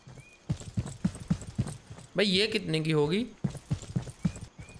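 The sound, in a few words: horse hooves clip-clopping while riding, from a video game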